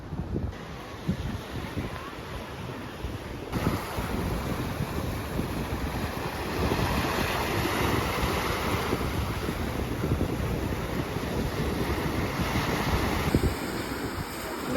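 Waves and wind along the Ionian Sea coast in Sicily, a steady broadband roar of surf with gusting wind buffeting the microphone throughout, no voices.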